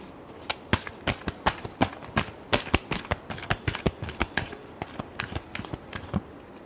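Tarot cards being riffled and shuffled by hand, a rapid, even run of crisp paper flicks and snaps repeating close up for several seconds, with no voice over them.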